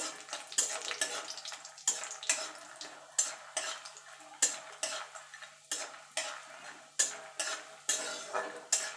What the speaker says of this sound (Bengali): বড়িটা লাল লাল করে ভেজে নেব